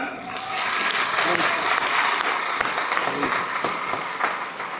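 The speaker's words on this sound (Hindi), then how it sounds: "अपनी जोरदार तालियां एक बार।" A class of students breaks into loud, sustained applause. The clapping is dense and close, with a few voices mixed in under it.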